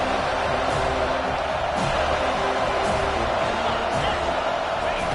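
A stadium crowd roars steadily at a Notre Dame vs Florida State college football game, a dense, continuous wall of cheering with a commentator talking over it.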